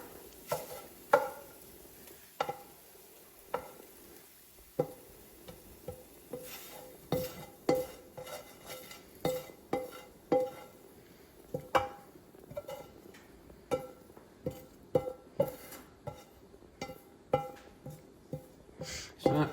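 Food scraped from a frying pan into a bowl, metal and utensil scrapes and taps repeating at an uneven rhythm throughout, close and fairly loud with no talking.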